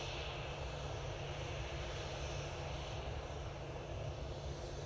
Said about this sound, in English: this Ryanair in front of us is off to Riga